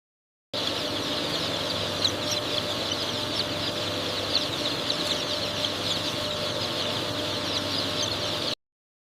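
A large automated broiler chicken shed, with many birds clucking and murmuring in a dense, continuous chorus under a steady mechanical hum, no voices.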